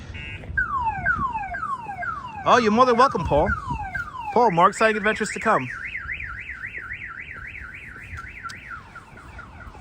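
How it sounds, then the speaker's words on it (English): A car alarm on a street in Bay Ridge, Brooklyn, New York City, cycles through its patterns, falling whoops, warbling bursts, then a rapid rising-falling wail, loud and nearby while someone talks over it. "Love that car alarm?"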